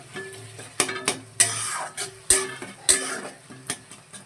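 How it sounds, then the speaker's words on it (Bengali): Chicken masala with tomato, onion and garlic stir-fried in a pan, with clattering utensil scrapes and knocks over a soft sizzle, several sharp clanks spaced irregularly, close by. "এখন চিকেনের মশলাটা কষানো হচ্ছে টমেটো, পেঁয়াজ আর রসুন দিয়ে।"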